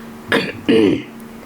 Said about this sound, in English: or clearing my throat